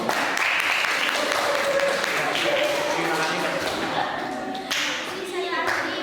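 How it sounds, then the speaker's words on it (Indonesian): A classroom of students claps for a student group after its presentation, steady broadband applause running throughout, with a teacher's voice speaking over it. "kelompok 4 kita beri tepuk tangan"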